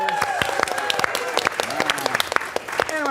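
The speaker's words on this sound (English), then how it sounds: "let's give a round of applause to our first place winner so far" A crowd claps for the first-place winner, Miles, at a game showdown, with busy overlapping hands and a cheerful voice talking over the applause throughout.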